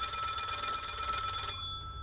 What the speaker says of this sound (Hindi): वो टेलीफोन फिर से बज पड़ा